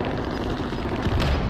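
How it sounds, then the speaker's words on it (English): A frag grenade goes off in Call of Duty Warzone on Rebirth, a dense, loud rumbling boom that fills the whole short moment with a heavy low roar and scattered crackle. "Throw a frag grenade."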